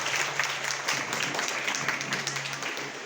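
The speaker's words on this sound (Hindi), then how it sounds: "तो एक बार जोरदार तालियां उस प्लेटफॉर्म परमपिता परमेश्वर के लिए" An audience at a direct-selling business talk gives a burst of enthusiastic clapping, a fairly steady patter of many hands with a faint low hum beneath it throughout.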